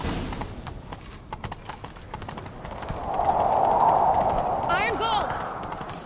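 Horse galloping in the video game The Witcher 3, a steady rhythmic clip-clop of hooves running throughout, with a swelling whoosh of game sound and a brief character voice near the end.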